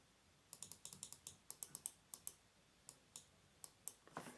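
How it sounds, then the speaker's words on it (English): Blade Hawks GM-X5 gaming mouse buttons are clicked repeatedly at close range, sharp crisp clicks in quick irregular runs with brief pauses, quiet and without talk. "giving you some sense of the mouse engagement of the clicks"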